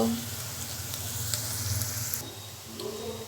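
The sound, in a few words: chopped onions frying until brown for halim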